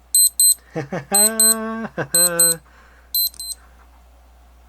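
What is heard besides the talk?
Timex analog alarm watch alarm going off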